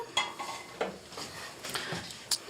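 A pan heating on a stove for crêpes, with light clinks and scrapes of utensils against it and a faint sizzle, close and intermittent.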